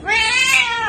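A pet cat lets out a single loud, drawn-out meow, close by and with no other sound around it.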